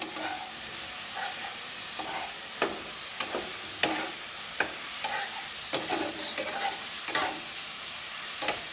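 Eggplant and banana pieces fry with sautéed spices in a pan under a continuous sizzle, punctuated by sharp spoon taps and scrapes against the pan at irregular intervals.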